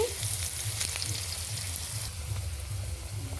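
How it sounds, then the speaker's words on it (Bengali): Pumpkin pieces fry in hot oil with a continuous, close sizzle and soft crackle, steady and moderately quiet, with no voices over it. "এই কুমড়ো ভাজা বসিয়ে দিয়েছি"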